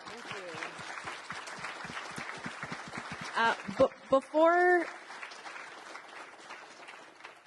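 Conference audience applause, a quiet, steady patter of clapping spread through the room with a few scattered laughs, followed by someone speaking briefly.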